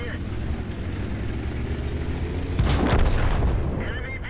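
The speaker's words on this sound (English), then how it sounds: "Enemy vehicle destroyed." A tank shell explodes in World of Tanks, destroying an enemy tank: a loud, broad blast bursts in partway through over a steady bed of engine rumble and game noise, then fades.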